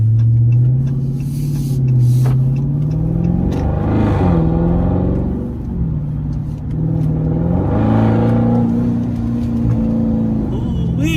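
A 2020 widebody Dodge Charger with a mid muffler delete revs hard in two swelling pulls, its deep, growling exhaust rising and falling loud and close.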